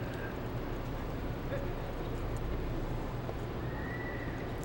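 A horse at a cutting competition neighs and runs, with hoofbeats and whinnies mixed into a busy arena background under a commentator's voice.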